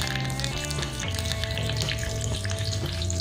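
Curry leaves sizzle in hot oil during a tempering with dried red chillies for an amaranth leaf curry, giving a steady, loud crackling hiss that runs unbroken throughout.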